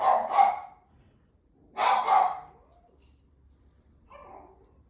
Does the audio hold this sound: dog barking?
yes